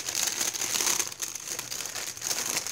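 Plastic packaging of a pink flamingo fidget spinner being cut open, a steady close crinkling and crackling that runs the whole time with no talk over it.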